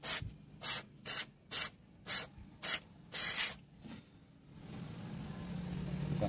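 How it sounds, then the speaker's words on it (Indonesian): Seven sharp, evenly spaced hissing bursts of spray cleaner aimed at the throttle body of a Honda Brio car, close and loud, followed by a softer ongoing low hiss. "coba kita semprot ya"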